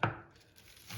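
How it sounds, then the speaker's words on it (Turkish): A couple of sharp knife chops through onions on a cutting board, one at the start and another near the end, with quiet kitchen room tone between. "Şimdi de soğanlarını doğruyorum."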